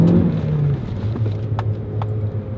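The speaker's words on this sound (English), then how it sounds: "Let's drop a few gears and have fun around this roundabout." Car pulling hard in first gear around a roundabout, a steady low engine drone with rising tonal lines, loud and close from inside the cabin, with no talking.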